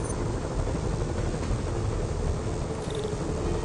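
A video game helicopter's steady whirring drone runs continuously and fairly loud, with no other sounds or voices.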